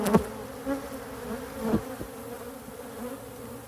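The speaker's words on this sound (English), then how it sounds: "it looks like there's a swarm in the trap" A swarm of bees buzzing around a swarm trap, a close, continuous drone with individual bees passing by in brief louder swells.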